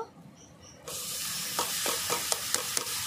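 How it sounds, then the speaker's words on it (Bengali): Boiled banana flower dropped into hot oil with cooked spice paste for a coconut mocha ghonto, setting off a sudden loud sizzle that keeps hissing while a utensil stirs with a few sharp scraping strokes. "এবার আমি সিদ্ধ করা মোচা দিয়ে দেব।"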